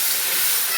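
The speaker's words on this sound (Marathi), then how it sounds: "तर आता पाणी ॲड करू थोडं," Water poured into a hot pan while cooking potato curry for puri bhaji sizzles in a loud, steady, close hiss that lasts under a second.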